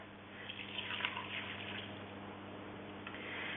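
Boiled rainwater from a tank is poured into a container sitting on kitchen scales while making liquid soap, giving a soft, steady trickle and splash, fairly quiet and close, with no talking.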